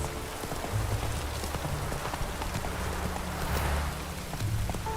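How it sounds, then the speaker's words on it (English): Steady, dense rain falling in The Witcher 3: Hearts of Stone, a continuous even hiss of drops on surfaces with low ambient rumble beneath, no voices. "It just rains and rains."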